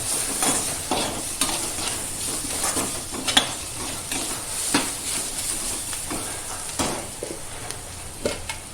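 Green gram pulses with turmeric frying in a pan, a steady sizzle with repeated scraping strokes and light clacks of a spoon against the metal, close and clear, no voices.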